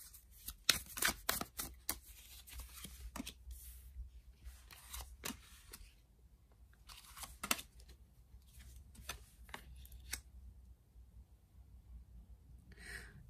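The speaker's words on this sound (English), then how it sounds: "Let's lay out a few more cards to see what else comes up." Tarot cards being shuffled and dealt out one by one: faint, close papery riffles, taps and slaps in irregular clusters, with quiet gaps between them.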